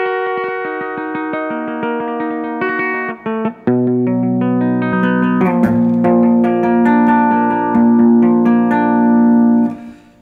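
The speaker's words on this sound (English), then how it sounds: "The metal cable tie alone sounds like this if I play with" A guitar is plucked with the metal side of a cable tie, producing bright, sustained metallic notes that ring and overlap, a couple of brief gaps, then denser strummed chords before fading out.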